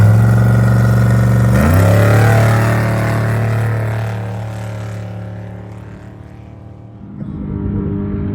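Loud, close engine of a 6100-class spec trophy truck at the start of an off-road desert race, a deep steady rumble that revs up sharply, then fades and swells again as it pulls away.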